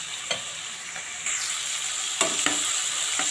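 Boneless chicken fries in a pan with a continuous bright sizzle, broken by a few sharper crackles and stirring scrapes.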